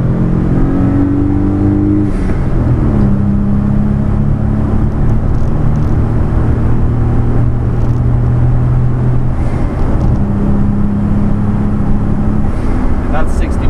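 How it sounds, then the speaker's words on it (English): A 1991 Daihatsu Atrai Turbo intercooler kei van accelerates hard from inside the cabin, its engine note climbing through the gears with rising whine and drone over steady road noise. "Second gear, we might spin the tire, no problem."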